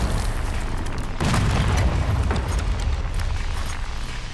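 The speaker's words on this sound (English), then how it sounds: "Are you getting mortar shelled? Yes, I am." Mortar shells bursting in a zombie video game, a loud deep boom at about one second followed by rolling, rumbling blast noise that fades out, with no talk.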